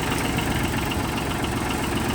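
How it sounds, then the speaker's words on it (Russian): The engine of a Kubota KH-8 mini excavator with a 0.1 cubic metre bucket idles in a steady, loud, close rumble. A constant low-mid drone carries a faint rhythmic chug and vibration throughout, and no one speaks. "Никаких вопросов по работе двигателя не возникает."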